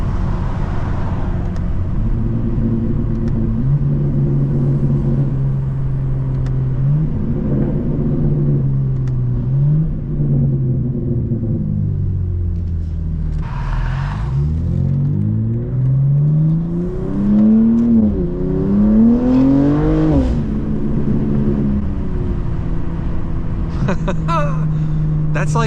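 An 800-horsepower BMW M2 G87 accelerating on the road, engine tone rising and falling through several gear pulls at part throttle, heard loud and close from inside the cabin with a brief voice near the end.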